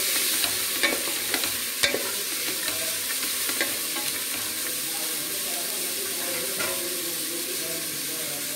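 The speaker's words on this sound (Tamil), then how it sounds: "வெங்காயம் வதங்கின உடனே இந்த பட்டாணி போட்டுக்கலாம்." Green peas and onions sautéing in a pan for pulao, a steady close sizzle with scraping spoon strokes and occasional clicks against the pan.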